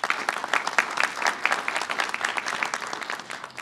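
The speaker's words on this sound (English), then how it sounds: "he deserves a round of applause" An audience at a state governor's press event gives a round of applause, dense steady clapping from many hands for a few seconds, fairly close and even throughout.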